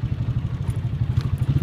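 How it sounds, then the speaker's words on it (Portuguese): A motorcycle idling and clunking into gear on a city street, a close, low, pulsing engine rumble with a rhythmic chug throughout the short moment, no talk. "Vai, moto, engata a marcha, querida."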